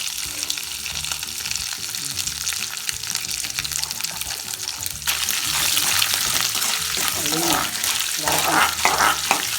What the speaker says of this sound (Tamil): எல்லாத்தையும் இதில் வறுக்கணும். முதல்ல தேங்காவை போடணும்.